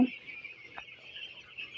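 Eleven-day-old broiler chicks peeping continuously in a high-pitched chorus, fairly faint and steady, with a brief soft knock partway through.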